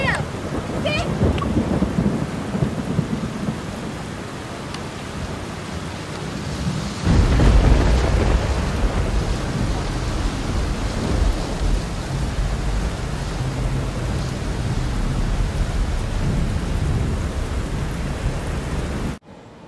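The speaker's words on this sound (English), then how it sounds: "Oh my gosh, did you see that lightning strike?" Heavy rain pours steadily during a lightning storm, with a loud thunder crash breaking in about a third of the way through and rumbling on beneath the downpour.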